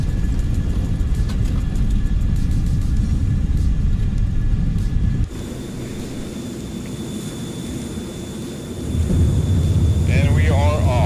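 An F-14 Tomcat lifts off a runway at Cape Town in Microsoft Flight Simulator, with a loud steady engine roar and rumble that drops abruptly at liftoff, and someone talking throughout.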